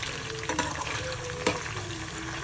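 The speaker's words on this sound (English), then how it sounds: "We need to deep fry it, so just go ahead and add the mushrooms" Mushrooms deep frying in hot oil in a pan, a steady close crackling sizzle with a few sharper pops and the scrape of occasional stirring.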